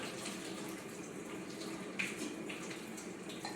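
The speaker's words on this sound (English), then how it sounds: "And then I'm gonna take just maybe a tablespoon of hot water." About a tablespoon of hot water poured while making an iced matcha latte, a soft continuous trickle close to the mic under a faint room hiss, with no one talking.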